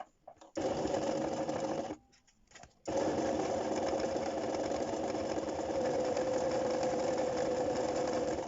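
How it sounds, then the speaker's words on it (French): A sewing machine stitches all the way around fabric ears for a sewn Easter basket, running steadily and close, with a brief pause near two seconds before the stitching continues. "Et je vais venir coudre tout autour."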